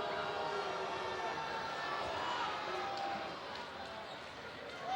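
High school basketball crowd at Port Huron vs Port Huron Northern in 2010 holds a loud, sustained wash of booing and jeering across the gym that eases slightly near the end.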